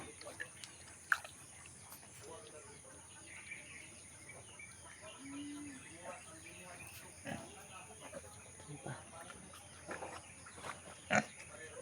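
Newborn piglets grunt faintly and sporadically in a quiet pen, soft low snorts scattered among occasional clicks and bird calls, with a person's voice at times.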